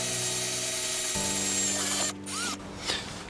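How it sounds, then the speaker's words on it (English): A power drill bores through a Ford Fiesta ST150 wheel arch while fitting RallyFlapz mud flaps, running with a steady whine that shifts pitch, then stops with short mechanical clicks and a brief rev. "now just drill through this part"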